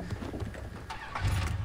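A car engine in Far Cry 3 runs with a low rumble that swells louder toward the end, alone without talk.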